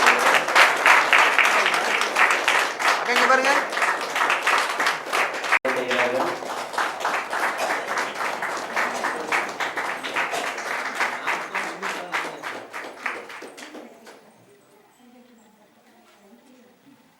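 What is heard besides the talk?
audience giving loud applause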